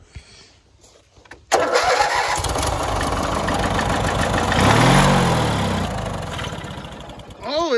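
An MTD snow blower engine catches after a quiet lead-in, firing abruptly into a loud, steady running rattle that swells briefly as it revs before settling.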